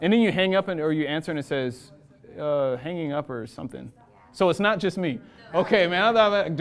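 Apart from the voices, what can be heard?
No everyday noises stand out.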